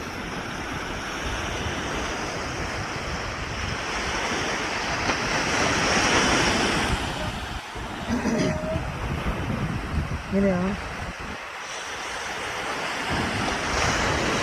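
Surf crashes and rolls steadily against the shore of a fishing beach where boats are launched, with wind buffeting the microphone and a person speaking briefly partway through.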